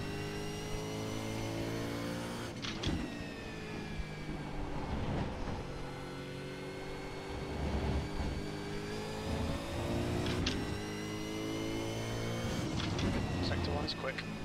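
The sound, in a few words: V8 Supercar engine accelerating in iRacing video game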